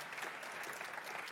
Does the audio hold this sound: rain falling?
no